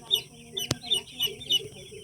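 Poultry farm chicks peep in a series of short, high chirps at an irregular rhythm, fairly faint and close, with one sharp click partway through.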